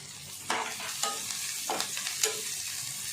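Onions and curry leaves fry in a pan for an okra stir-fry, a steady sizzle broken by four or five scraping stirs, close and moderately loud, with no talking.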